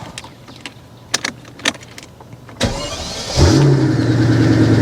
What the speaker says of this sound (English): So, that's the car. Let's fire it up.